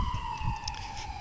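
An emergency vehicle siren wails steadily from a distance across a city, a faint continuous tone sitting over low rumbling traffic noise.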